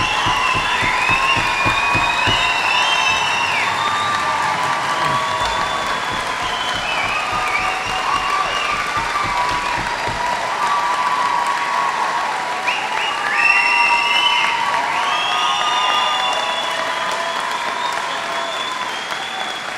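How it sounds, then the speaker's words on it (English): A large convocation audience applauds its standing graduates with loud, continuous clapping, and scattered cheers and whoops rise above the applause throughout. "let's have another round of applause for all that they have accomplished"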